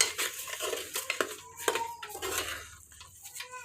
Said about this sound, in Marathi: मसाले आणि तांदूळ व्यवस्थित एकजीव करून म्हणजे व्यवस्थित मिक्स करून घ्यायचे।